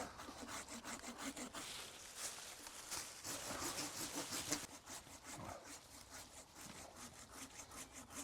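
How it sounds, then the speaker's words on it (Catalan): A hand saw cuts through a tree branch with steady back-and-forth strokes, a fairly faint, continuous rasp of teeth biting into wood. "Ara anem a tallar així una rama que la veiem que podem treure-li alguna cosa apropiat"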